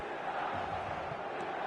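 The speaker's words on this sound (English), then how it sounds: "the San Siro is buzzing, certainly up for this one" Stadium crowd at the San Siro in the football video game eFootball 2024, a steady, dense roar of many voices that holds at an even level throughout, with no individual shouts standing out.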